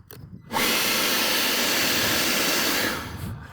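A Stiga BL 300e cordless battery leaf blower switches on abruptly after a brief quiet moment, rising to a loud, steady airy whoosh that holds for a few seconds before easing down.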